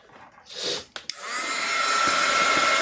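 A hair dryer drying an alcohol ink painting switches on after a few brief handling noises and runs as a steady, close whirring blow that grows slightly louder to the end.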